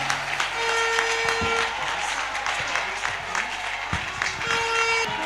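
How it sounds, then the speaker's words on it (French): A congregation claps during a thanksgiving service at a prayer camp. The dense, loud applause is steady and fills the whole stretch, with crowd noise and brief tonal blasts mixed in. "Ça s'applaudit."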